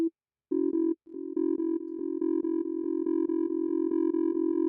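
Reaktor 6 software synthesizer modules, including reverb and ring modulator, feed back into each other through a matrix mixer: a steady electronic tone drones with regular rhythmic pulses, starting after a brief stutter and holding a harsh, buzzing pitch throughout.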